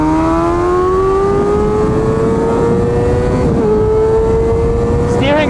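Kawasaki ZX6R sport bike engine on a race track, a loud, sustained high-pitched whine climbing steadily through the gears, close and continuous with a brief shift dip partway and a rev change at the end.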